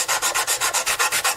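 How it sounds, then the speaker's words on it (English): Sandpaper of 220 grit rubs across the top of an Eastman mandolin in about ten quick, even back-and-forth strokes, a close, steady rasping swish with no voices. "I'm going to have to do some heavy-duty sanding here to try to level this all out. So I got some 220"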